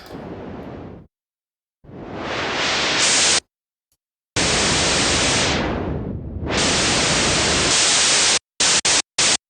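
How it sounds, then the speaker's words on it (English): White noise from the Discovery Pro software synthesizer in noise mode, loud, broad hissing bursts that start and stop abruptly, one swept with a brief filtered dip, ending in a few short stuttering blasts, with no talking. "this must be white noise"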